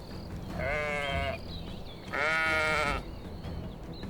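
Sheep in the Arizona canyons give two long, wavering bleats about a second apart, each clear and fairly close, standing alone against a quiet outdoor background.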